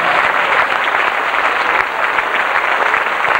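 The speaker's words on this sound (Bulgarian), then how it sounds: "нека сега аплодисментите да бъдат по-силни" Steady applause from a crowd in Radnevo, Bulgaria, greeting the town's mayor, sustained and even throughout with no pauses.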